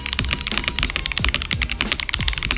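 Fast, steady typing on a mechanical keyboard tuned for a deep, thocky sound, each keystroke a close, crisp clack with a muted low thud beneath, continuous and alone without any voices.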